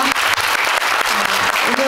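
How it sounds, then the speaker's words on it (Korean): Cinema audience at a post-screening guest talk clapping in a short, dense burst of applause, close and steady throughout. "박수 부탁드릴게요."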